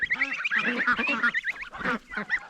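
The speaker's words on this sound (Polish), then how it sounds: "To są gęsi." Geese honk repeatedly in a noisy, overlapping chorus, close by and fairly loud, with uneven bursts of calls and no talking.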